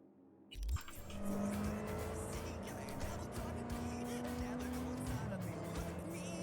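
Car engine in Cyberpunk 2077, heard from the driver's seat, running steadily after a sudden start, with a sustained engine drone and broad road noise. A tonal tire squeal comes and goes throughout.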